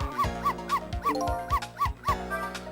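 A dog barks in the video game Ghost Trick, giving about eight short synthetic yips in a steady rhythm, each with a bright pitched tone over a low thump, with nobody talking.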